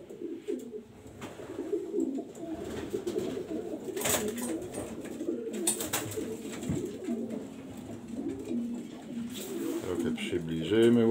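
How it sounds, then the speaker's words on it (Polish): Pigeons feed and coo inside a loft, soft repeated cooing and rustling close by, with scattered clatters and a few sharp knocks from the birds moving about. "O, gołąbki sobie jedzą, siedzą ładnie."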